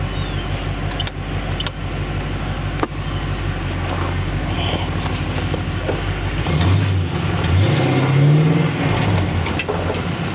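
A 1986 Chevrolet Monte Carlo SS idles with a low, loping rumble, then pulls away and accelerates, the engine note rising loud and close from inside the car as it gains speed.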